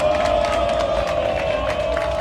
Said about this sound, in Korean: 만약에 공감하신다면 박수를 한번 쳐주시죠